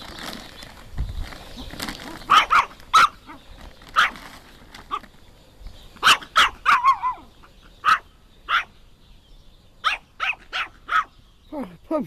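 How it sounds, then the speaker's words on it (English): A dog barks in short, sharp bursts, about fifteen barks in irregular clusters, close and fairly loud with quiet gaps between. "You barking at this."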